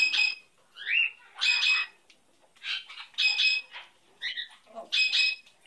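A pet bird lets out a run of loud, close squawks and shrill calls in short bursts, with brief pauses between them.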